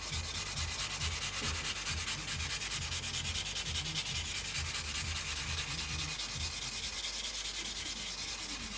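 A plastic kit join on a Revell 1/32 Messerschmitt Bf110 C-2 model is rubbed down gently with a sanding sponge, giving a steady, close, continuous scratchy rasp with no talk.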